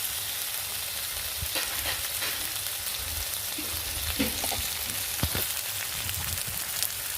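Steady crackling sizzle of onions frying in a hot pan, with occasional louder pops and stirring scrapes, close and continuous.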